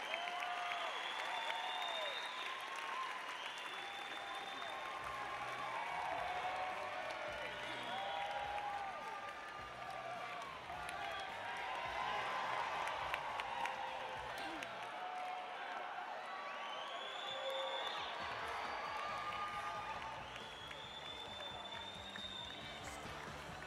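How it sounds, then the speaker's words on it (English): Crowd at a tennis doubles match at the 2009 SAP Open applauding, with sustained clapping and some cheering, fairly distant and steady, while voices ring out over it. "Guys, another big round of applause for Bob and Mike Bryan."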